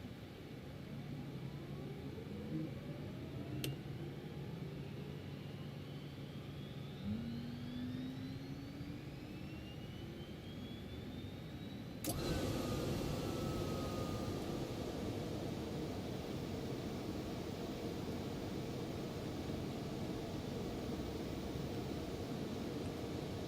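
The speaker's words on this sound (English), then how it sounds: "now we are good to start the engines" Airliner engine spooling up in the X-Plane 12 flight simulator: a steady broadband roar with rising whining tones, then a sudden louder jump to full sustained rumble partway through, continuous with no talking.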